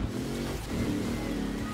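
A racing car engine drones and revs steadily through dunes in the video game Forza Horizon 4, loud and continuous with pitch shifts, with no talking.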